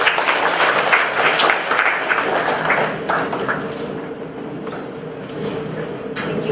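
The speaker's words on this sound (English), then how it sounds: "we conclude with the applause to our speakers" Applause from a conference audience for the session speakers, loud and dense at first, then thinning out into scattered claps before a few late isolated ones.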